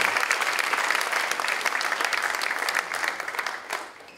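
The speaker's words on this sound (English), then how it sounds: "How about another round of applause for" Concert audience applauding a wind ensemble's brass section at a holiday pops concert, steady dense clapping from a large crowd that holds for several seconds and slowly thins toward the end.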